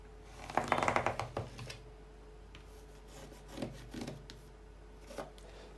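A marker or chalk draws lines across fabric to join measured marks for a woman's collared shirt, making a scratchy rasping burst near the start, then a few shorter, fainter strokes.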